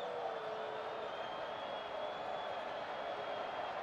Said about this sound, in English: The crowd gets loud here at the Rock.